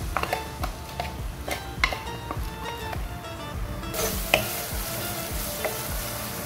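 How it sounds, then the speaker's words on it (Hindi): A chopped medium onion fries in four tablespoons of oil in a pan, giving a continuous sizzle broken by repeated scraping and stirring clatters, close up and with no speech. "अब हम अपने एक पैन में 4 टेबलस्पून ऑयल डालेंगे। उसके अंदर हम 1 अपना मीडियम साइज़ का जो है प्याज चॉप करके डालेंगे।"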